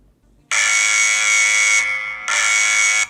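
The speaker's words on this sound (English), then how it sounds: "we can sound the alarm." A SENS8 outdoor security camera's siren blares loud and steady for over a second, cuts out briefly, then resumes just as loud, a harsh high-pitched electronic alarm with no talking.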